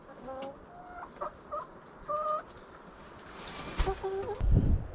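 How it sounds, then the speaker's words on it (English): Chickens in a coop give scattered clucks and short calls against a quiet backdrop, fairly faint and irregular, with a louder burst of clucking and rustling toward the end. "yeah, I think you birds are real comfortable in here."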